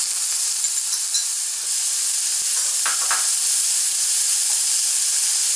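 Onions hiss and sizzle loudly in a hot omelet pan, a constant close crackle with a few brief clinks as they are moved around.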